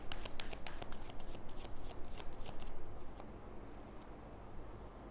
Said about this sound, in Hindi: लेकिन बिल्कुल सिंपल सा एक कार्ड्स का लेआउट बनाऊंगी मैं।